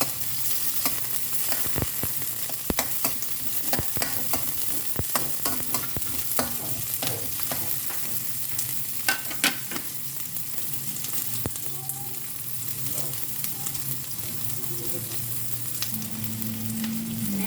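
Garlic and ginger frying in a pan for mung bean stew in coconut milk, stirred with steady scraping and clinking over a continuous close sizzle, no talking.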